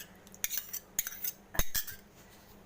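A spoon clinks and scrapes against a bowl while yogurt is mixed into semolina and powdered sugar for a rava cake, with several sharp taps and scrapes spaced irregularly, close by and without talk.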